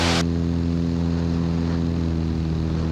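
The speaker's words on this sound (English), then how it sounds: "And then I go airborne again, max power, and I get flaps 20." A light aircraft engine roars at maximum power during a go-around after touching down off-airport, a loud steady droning propeller hum held close and continuous throughout, with no talking.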